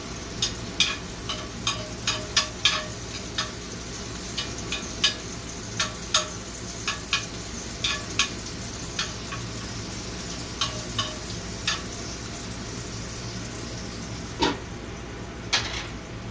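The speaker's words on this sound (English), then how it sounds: "I'm keeping most of the grease on one side of the pan, and I'm not using so much of it for the onions." Onions fry in steak grease in a pan, a steady loud sizzle with frequent scraping clicks of a utensil stirring them, no talk.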